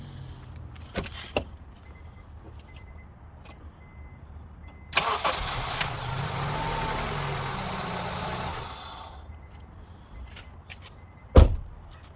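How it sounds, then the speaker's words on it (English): A 2.4-liter 2004-2006 Honda CR-V engine cranks and fires after a quiet stretch, then runs at a steady idle for about four seconds before cutting out. It sounds close and fairly loud, and a sharp knock follows near the end. "Let's start the engine now."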